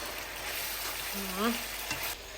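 Steady sizzling of peppers frying in hot oil, with a faint voice briefly rising over the crackle.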